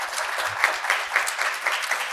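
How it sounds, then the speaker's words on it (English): Audience applause for panelists at a forum on affordable housing, a steady wash of many hands clapping at moderate distance, continuous throughout. "So one more big round of applause for our panelists"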